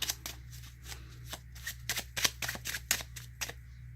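Tarot cards are handled and shuffled up close, giving a quick series of crisp riffling flicks and snaps in an uneven rhythm, with no talking.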